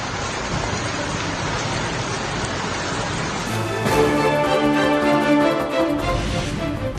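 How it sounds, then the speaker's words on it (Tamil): Heavy rain pours steadily onto flooded roads in Mathura, a dense unbroken hiss that grows louder and splashier midway, with no voices. "உத்தரப்பிரதேச மாநிலம் மதுரா மற்றும் சுற்றுவட்டார பகுதிகளில் கனமழை."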